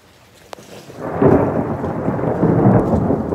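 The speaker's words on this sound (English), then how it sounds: "Oh my goodness, lightning." A loud roll of thunder in a winter storm builds after a faint click and keeps rumbling near and heavy, with a rain-like hiss mixed in and no talk.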